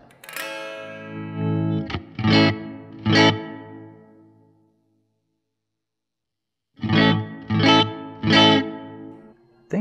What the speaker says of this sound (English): Yeah, the hall reverb.